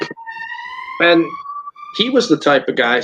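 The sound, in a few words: sirens outside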